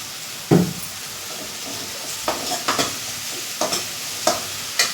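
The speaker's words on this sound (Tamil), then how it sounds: "எல்லாம் வறுத்து கொட்டிக்கலாம்." Ingredients stirred and fried in a pan while cooking green gram, with a soft sizzle and a series of short scraping stir strokes spaced through the clip, close and clear, with no voices.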